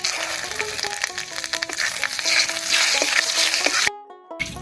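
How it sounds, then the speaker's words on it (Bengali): Whole cumin seeds and two bay leaves crackle and sizzle in hot mustard oil in a village kitchen pan, a dense steady fry with small pops and scraping, cutting off briefly near the end. "তেল গরম হয়ে গেছে, তেলের মধ্যে দেব হাফ চামচ গোটা জিরা আর দুটো তেজপাতা।"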